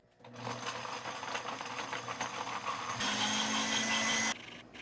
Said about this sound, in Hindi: 1/4 कप दूध शामिल करने के बाद इसको ब्लेंड करेंगे।